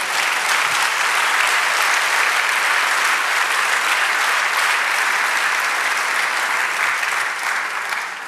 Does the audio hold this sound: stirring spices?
no